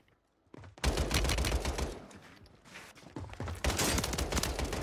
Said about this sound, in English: did he have a shotgun?